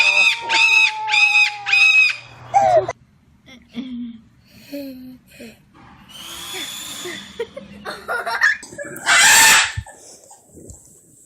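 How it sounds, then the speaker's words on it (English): Loud bird squawks and crowing calls, rooster-like, ring out in repeated bursts, with a harsh screech near the end, while people talk and exclaim in between. "What's wrong with that bird?"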